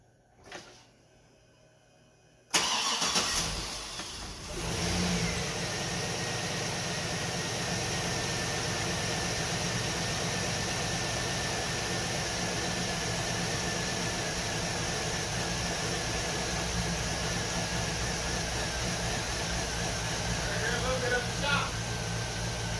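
After a brief quiet moment a truck engine with a Vortex Max Truck Norris performance cam cranks and catches, then settles into a loud, steady idle with a lumpy, choppy rhythm.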